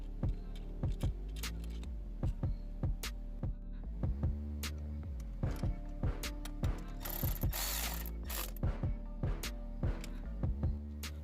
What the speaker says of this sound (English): we're just going to go ahead and get this one all tightened up as well.